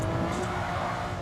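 Tires of a stock Honda NSX-R squealing under hard braking on the Nordschleife, a continuous loud, close screech blended with road and engine noise, with no talk over it.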